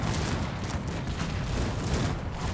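A Cossacks 3 battle rages with massed musket volleys and cannon fire, a dense continuous crackle and rumble of distant gunfire with no clear pauses.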